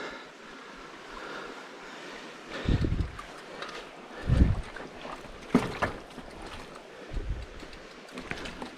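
A hardtail mountain bike rides through a creek in the Cohutta Mountains: several low splashes and water thumps come a second or two apart, with rushing water and wind noise in between and no talk.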